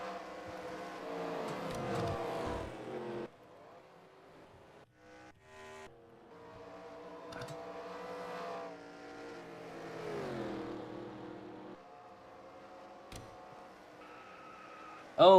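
Stock cars in the NASCAR Racing 2003 video game run under caution at Charlotte, their engines droning and shifting in pitch as they pass, fairly faint, with a sharp loud burst at the very end.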